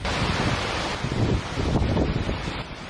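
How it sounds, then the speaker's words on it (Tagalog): Strong typhoon wind whistling and buffeting the microphone over crashing sea waves along a coastal barangay with a damaged seawall and flooded streets, a loud continuous roar with surging gusts. "Rinig din ang pagsipol ng hangin."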